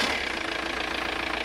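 Audi 80 1.9 TDI diesel engine idling steadily and close, a continuous rough broadband rumble with a faint rhythmic knock, no talk over it.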